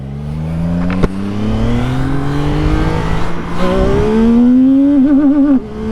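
A CFMOTO 675 NK motorcycle pulls away and accelerates hard, its engine note climbing steadily through the gears, loud and close with no talk over it.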